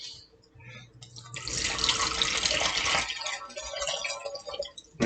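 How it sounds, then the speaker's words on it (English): White vinegar, about three cups, pours into a cooking pot for a Carolina vinegar sauce, a close, splashy liquid rush that builds after a quiet start, holds for a couple of seconds and then tapers off. "We're going to add about 3 cups of white vinegar."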